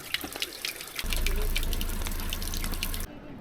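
Cold water from a mountain spring runs steadily into a container outdoors during a morning ride, a continuous close gushing flow that starts abruptly and cuts off near the end, with a brief voice early on.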